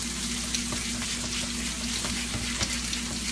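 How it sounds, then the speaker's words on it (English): Beaten eggs cook in olive oil for hibachi rice while being stirred constantly, making a steady bright sizzle broken by light scraping taps of the utensil, with no talking. "Break them up, and I basically just stir it into the olive oil."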